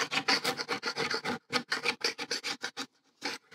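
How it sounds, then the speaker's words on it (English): Rapid, rough scraping strokes of a hand tool removing old glue from a wooden workbench top, close and loud in quick bursts with a few brief pauses, no talking. "There's some glue or something here, so we'll just scrape the worst of that off."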